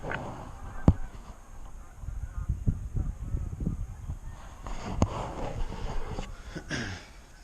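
Geese honk outdoors beside a home garage during a turbo car build, with scattered rough calls coming in two loose bursts at a moderate distance amid low background rumble and a few sharp knocks.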